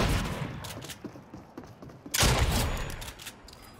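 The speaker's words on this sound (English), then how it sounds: "This shotgun's awesome." Several loud shotgun blasts ring out in a Fortnite match, scattered bursts followed by one big close shot midway, with mechanical clatter between them.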